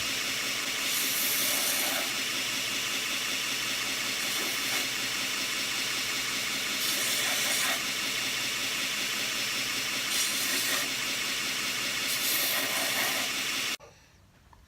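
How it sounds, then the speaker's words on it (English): A power sander smooths a DIY knife-maker's plunge line guide, giving a loud, continuous broadband whirring hiss with periodic bright surges as the tool presses on the workpiece, cutting off abruptly near the end. "We'll smooth it off with a sander"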